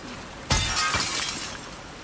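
A thrown glass bottle shatters in The Last of Us Part II: one sudden, loud smash, then a brief tinkling scatter of shards that fades out.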